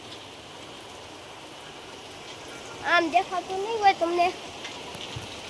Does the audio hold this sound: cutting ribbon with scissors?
no